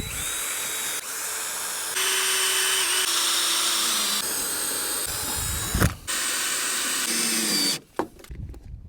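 A power drill pre-drilling and driving screws into 2x4 boards for a mobile chicken shelter, several sustained whirring bursts of varying pitch separated by short pauses, close and loud with clattering handling at the end.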